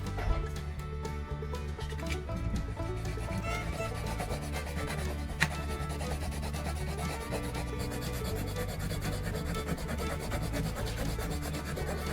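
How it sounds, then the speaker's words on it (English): Filing or sanding the cured seal on a spray can, a steady rubbing rasp that continues evenly throughout at close range with no talking. "smooth the surface with a file or sandpaper"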